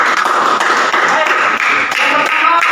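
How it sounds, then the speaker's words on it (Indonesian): Students in a classroom clap for a classmate, giving dense, continuous and fairly loud applause with sharp overlapping taps throughout. "Tepuk tangan buat temannya."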